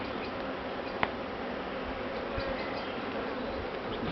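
Honey bees buzz in a dense, steady swarm at the hive, the loud even drone filling the whole stretch with only a couple of tiny clicks.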